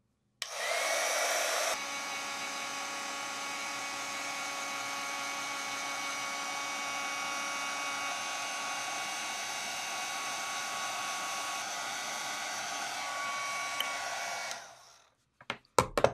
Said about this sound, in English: I've got my Wow Heat embossing tool